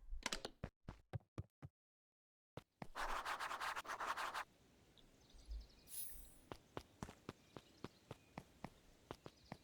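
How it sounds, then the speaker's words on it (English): In the Beacon Pines video game, a group of footsteps approaches as sharp, evenly spaced scratchy steps, followed by a short silence and a burst of rustling, then a steady run of steps. "Luka heard a group of footsteps approaching"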